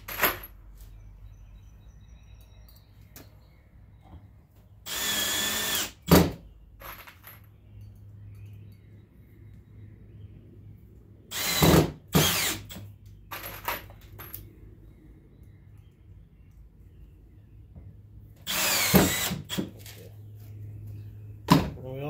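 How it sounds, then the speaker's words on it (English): A power drill drives inch-and-a-quarter deck screws into an exterior door during repair, with three loud bursts of whirring spread across the stretch and quieter clicks and handling noise between them. "I'm going to use an inch and quarter deck screws."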